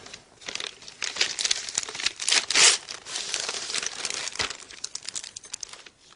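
Paper crinkles and rustles steadily up close as a handmade gift drawing is unwrapped, a continuous crumpling with louder bursts midway and no talking over it.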